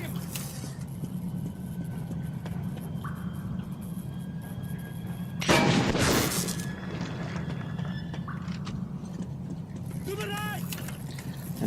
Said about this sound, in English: the Volt Driver is pretty much a one-shot kill on human targets